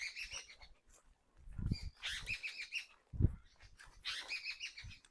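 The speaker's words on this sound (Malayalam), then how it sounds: "കിളികളുടെ ഒച്ചയൊക്കെ കേട്ടില്ലേ?" Birds chirp and tweet across open farm land, bright repeated calls in several bursts over the full span, fairly close, with a few low thumps between them and no talking.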